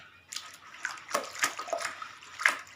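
A foot soaks in a basin of water, moved now and then to stir it, giving soft, intermittent sloshes and small splashes close by.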